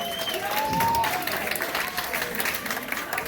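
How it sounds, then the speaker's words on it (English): Audience applause at a poetry show fills the room steadily, a dense wash of clapping from a crowd with some voices and cheers mixed in. "Give my sister a round of applause, y'all."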